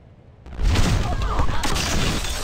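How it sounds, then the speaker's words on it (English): A loud, close explosion in the Tacoma video game bursts in suddenly and roars as a dense, sustained blast with crackling debris lingering for a couple of seconds. "That's where the explosion came from."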